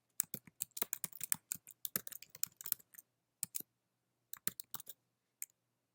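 Fingers tap on a computer keyboard in quick, irregular bursts of crisp clicks, close and clear against a quiet room, pausing briefly before a few final keystrokes.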